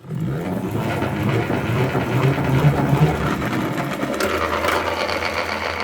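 A salad spinner whirs loudly and continuously with a rattling, buzzing drone that shifts to a steadier lower hum near the end.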